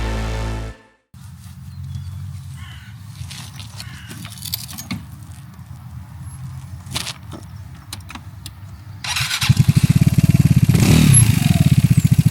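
A Vespa GTS 300 scooter engine runs with a steady, moderate drone, briefly cutting out near the start before continuing, then rising louder and rougher as it accelerates toward the end.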